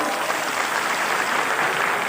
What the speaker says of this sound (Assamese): আপোনালোকে এবাৰ ডাঙৰ হাত চাপৰি বজাই দিয়ক